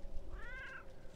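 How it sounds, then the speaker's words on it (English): A single cat meow from the video game Dead by Daylight rises and falls in the middle of the clip, clear and fairly close over low, steady game ambience. "I heard the cat."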